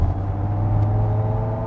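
Synthetic S-mode engine sound from the active sound design of an electrified 2022 Genesis GV70 electric SUV: a steady, futuristic droning hum with a low fundamental and layered tones, continuous and even in loudness for a short stretch.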